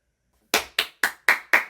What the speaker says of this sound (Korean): 일단 박수 일단 박수